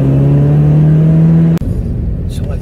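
A Mazda Miata engine holds a steady loud drone while driving, then cuts off abruptly, leaving low road rumble and wind noise.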